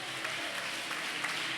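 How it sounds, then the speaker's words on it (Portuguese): A church congregation at an evangelical festival applauds, a soft, steady wash of clapping that stays faint and unbroken throughout. "Quem pode glorificar e aplaudir o nome do Senhor Jesus?"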